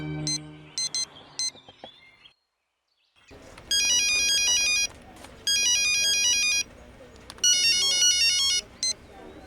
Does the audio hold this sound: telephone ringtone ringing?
yes